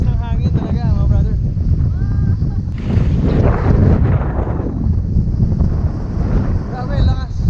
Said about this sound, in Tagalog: Grabe, sa lakas ng hangin talaga mga brother.